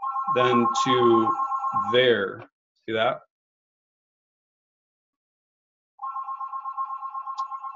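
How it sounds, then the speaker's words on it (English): A mobile phone ringtone with a repeating electronic pattern cuts in after a person speaks and a short silence, then keeps ringing steadily and fairly loud to the end. "That's my phone."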